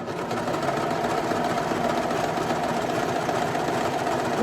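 Sewing machine running steadily while stitching a rolled hem on T-shirt fabric, a constant fast mechanical whir and rattle throughout with no pauses, fairly close and moderate in level.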